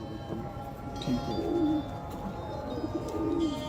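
Soft, low coos of a pigeon close by, a few rolling phrases repeating over a few seconds with faint background noise and no talk.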